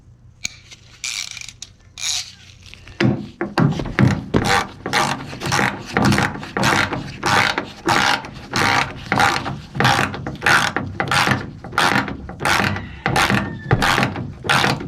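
A ratchet wrench tightens tailgate hinge bolts on a 2001 Chevy 2500HD Silverado, clicking in a steady rhythm of repeated loud, close strokes after a brief quiet start.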